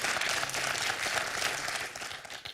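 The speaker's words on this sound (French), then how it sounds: "On va applaudir Benjamin qui fait encore un très joli score" Studio audience on a quiz show bursts into dense, sustained applause that holds steady before fading slightly at the end, with no voices over it.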